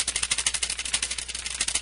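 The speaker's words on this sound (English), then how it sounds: "I hit the space bar quite a few times there" A computer keyboard's space bar is tapped over and over in a fast, even run of crisp plastic clicks, close and clear, with no voices.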